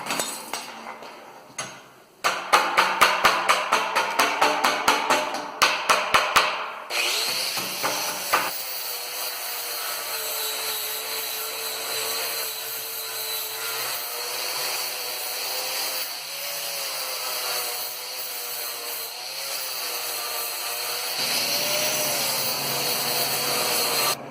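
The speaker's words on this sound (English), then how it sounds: "After plasma cutting, we need to clean dross and slag from the back of the parts." Plasma-cut metal parts for a 3D butterfly are scraped and chipped clean of dross and slag, giving a burst of rapid clattering scrapes and clinks, then a long continuous grinding hiss with shifting tone.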